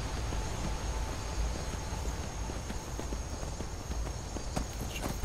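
Horse hooves clip-clopping in the video game Skyrim, a steady walking rhythm of soft hoofbeats over a constant hissy background, fairly faint and with no talking.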